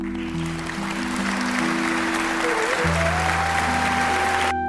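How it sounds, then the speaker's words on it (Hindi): A village crowd in an animated story bursts into applause, a continuous wash of clapping laid under sustained musical tones that shift pitch throughout, ending in a brief abrupt burst. "पूरा गांव तालियों से गूंज उठा।"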